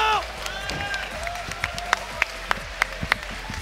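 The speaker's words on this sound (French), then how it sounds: "S'il vous plaît, applaudissez Mathis." An audience at a Rocket League esports event applauds, with scattered sharp claps rising over crowd murmur, while a presenter talks over it.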